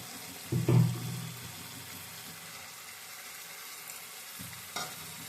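Fried prawns tumble into a pan of hot oil with a brief loud burst of sizzling, then a steady low frying hiss and a second soft clatter near the end.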